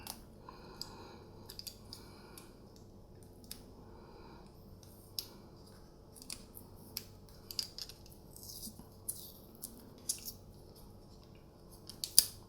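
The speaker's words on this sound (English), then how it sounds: "So let's remove the tape." Tape is peeled and picked off the slide of an Umarex/VFC Walther PPQ airsoft pistol, giving a quiet series of scattered crisp snips, clicks and rustles close by.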